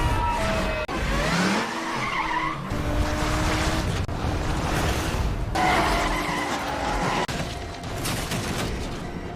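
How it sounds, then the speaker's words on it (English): A car chase with vehicles ramming each other off the road: loud repeated tire squeals and skids over revving engines, with sharp impact bursts between them. "During the pursuit, he rams one of their vehicles off the road"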